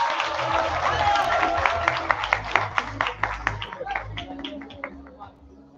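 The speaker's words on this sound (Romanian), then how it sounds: "Aplauze pentru Ibaro!" A crowd at a high school freshman ball at Liceul Teoretic "Traian Lalescu" claps for Ibaro, a lively burst of hand claps and murmuring voices that thins into separate claps and fades out.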